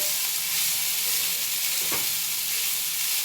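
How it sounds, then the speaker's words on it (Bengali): Food sizzling steadily in a hot pan while being stirred and mixed, cooking flattened rice for a home-style dahi curry; a continuous close frying hiss with a brief scrape of the spoon partway through, no voices. "এটাকে ভালো করে মিলিয়ে নেই।"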